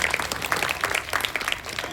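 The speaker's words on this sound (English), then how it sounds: "Clap for him." Clapping from a classroom audience for a student who spelled a word correctly at a school spelling bee, with moderately loud, uneven claps throughout.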